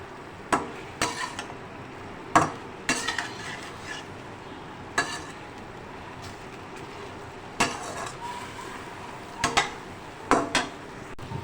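A spoon stirs and scrapes through potatoes, cumin and paprika in a skillet, giving sharp intermittent clinks and knocks against the pan. A faint sizzle runs underneath, with no voice heard.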